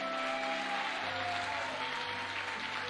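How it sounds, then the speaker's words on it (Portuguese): Steady, dense applause from a church congregation fills a worship service, a continuous wash of many hands clapping with no voices on top. "Dá aquele aplauso aí, meu irmão, por favor."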